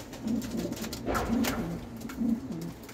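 A homing pigeon coos nearby in soft, repeated throaty phrases, with a brief faint voice and light background noise between the calls.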